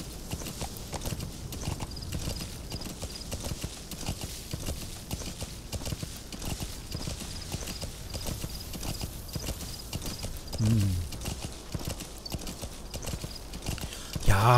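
Horse hooves clip-clop at a steady walking rhythm in Metal Gear Solid V: The Phantom Pain, a continuous close hoof patter with a brief louder bump near the end.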